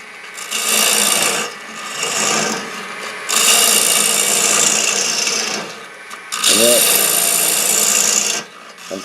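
Wood is hollowed out by hand with a carving tool in repeated rough, rasping scrapes, each lasting a second or two with short pauses between, close by and steady.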